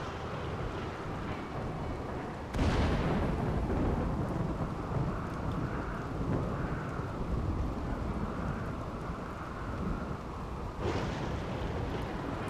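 Thunder from a lightning storm in RimWorld: a sudden loud crack swells into a long rolling rumble, and a second strike follows near the end over steady storm noise.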